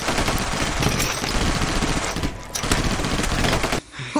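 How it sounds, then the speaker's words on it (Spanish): Loud, close machine gun fire rattles in a continuous rapid burst in a shark film scene where a soldier is shot dead, cutting off briefly at the end. "esta maravillosa escena de soldado yankee muriendo acribillado"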